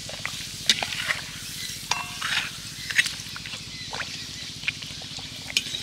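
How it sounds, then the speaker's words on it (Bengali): Homemade instant papad frying in hot oil in a pan, turned over on both sides; a steady close sizzle runs throughout with sharp crackles and pops scattered over it, no talk. "এইভাবে দুটো পিঠ উল্টে পাল্টে একটু ভেজে নেব"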